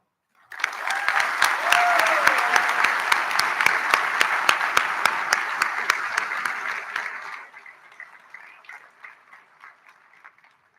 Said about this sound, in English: Let's give one more round of applause to Cadet DeMeo